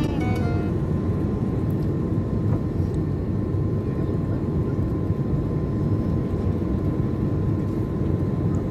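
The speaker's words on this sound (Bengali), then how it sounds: "আমরা আর অল্প সময়ের মধ্যেই ল্যান্ড করব কায়রো এয়ারপোর্টে।" An airliner approaching landing at Cairo airport produces a steady, loud, unbroken roar of engine and airflow noise throughout, with no talk heard.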